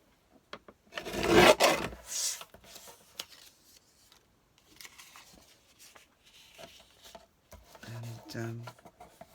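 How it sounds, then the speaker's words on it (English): Paper for a scrapbook page is trimmed with a brief rough, rasping cut near the start, then faint rustling and handling while someone talks. "Let's trim a bit off this piece."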